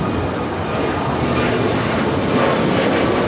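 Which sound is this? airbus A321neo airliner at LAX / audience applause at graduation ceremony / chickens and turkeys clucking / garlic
airbus A321neo airliner at LAX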